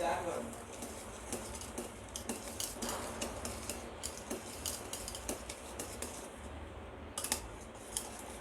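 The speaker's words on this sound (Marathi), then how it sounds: "साखर वितळेपर्यंत याला असं मिक्स करत राहू आपण" A spoon stirs sugar into a sewai mixture in a pan, making repeated light scraping and clinking strokes close by while someone talks throughout.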